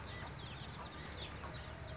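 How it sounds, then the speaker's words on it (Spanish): A hen with eleven chicks on a rural yard, clucking softly and continuously with faint peeping chick calls over a steady low background hum. "Aquí anda una sacada con 11 pollitos."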